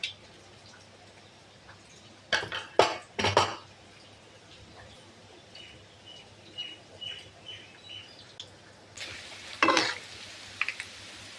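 Boondi batter for laddu is rubbed through a metal ladle over hot oil, giving bursts of close metallic scraping and clatter, with faint frying and distant birdsong in the background.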